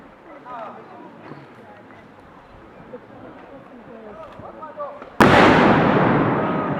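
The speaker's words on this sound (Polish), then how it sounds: "Wejście do sztolni zostało wysadzone." Murmuring crowd chatter at a battle reenactment at Książ Castle, then a sudden loud explosion as a tunnel entrance is blown up, roaring on and slowly fading as it rumbles.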